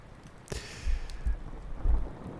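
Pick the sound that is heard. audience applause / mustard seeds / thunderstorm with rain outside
thunderstorm with rain outside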